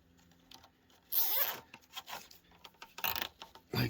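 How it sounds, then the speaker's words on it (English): A zipper is pulled along a protective sock wrapped over a hydraulic hose, giving several quick rasping bursts close up, with short pauses between pulls. "And this gets a zip right here."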